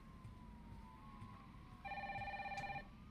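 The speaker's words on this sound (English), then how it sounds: "Let's go ahead and answer this phone, guys." A phone ringing in the video game Resident Evil 3, a single electronic ring burst of about one second, moderately clear over low ambient game noise.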